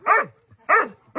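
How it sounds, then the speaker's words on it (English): A dog barks loudly and close by, three sharp barks in quick succession with brief pauses between them. "He never stops barking."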